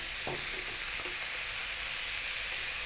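Diced bell peppers and sweet corn fry in a pan for a vegetable shepherd's pie, giving a steady loud sizzle throughout. A couple of faint stirring knocks come early, and no one talks.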